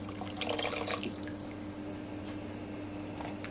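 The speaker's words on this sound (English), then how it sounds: "Once I have added my bone broth, then I'm going to add in my radishes." Bone broth glugs and splashes from a container into a soup pot in a brief liquid burst, then settles into a quiet steady hum of the kitchen, with no talking.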